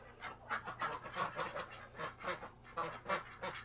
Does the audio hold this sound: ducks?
yes